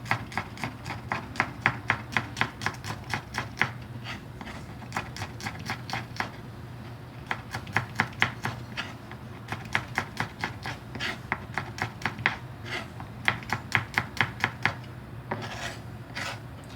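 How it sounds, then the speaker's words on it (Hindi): Garlic being chopped into small pieces with a knife on a board, heard as rapid, rhythmic, close-up blade taps in repeated runs that continue throughout, with no talking. "गार्लिक एज यूजुअल हम जैसे काटते हैं छोटे पीसेस में"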